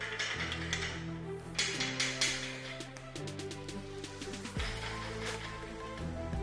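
A ratchet clicks in quick repeated bursts while tightening bolts on freestanding dip bars during assembly, close and crisp with short pauses between strokes.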